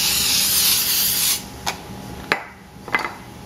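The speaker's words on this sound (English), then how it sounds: "I'm going to spray the tops of them with a little bit more olive oil spray." Olive oil spray spritzed over Brussels sprouts seasoned with sea salt: a long steady hiss of close spray, then three short sharp bursts.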